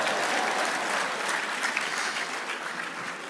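Steady applause from a large audience at a church leadership conference, a dense continuous wash of clapping that holds evenly throughout with no voices rising above it.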